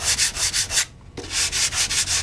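Body filler being hand sanded on a motorcycle part during an FZR restoration, a close rhythmic rasping of back-and-forth strokes with a brief pause midway.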